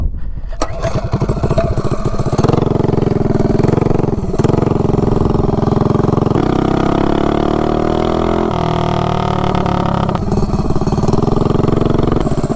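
Mini bike engine fitted with a standard length header exhaust revving up from a start and accelerating hard, a loud, raspy, buzzing drone that climbs steadily in pitch with brief shifts and dips, close and continuous throughout.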